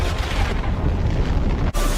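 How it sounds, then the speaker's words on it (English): An explosion effect from The Flash TV series: a loud, dense roaring blast that rumbles and rolls continuously before cutting off abruptly near the end. "A nuclear explosion."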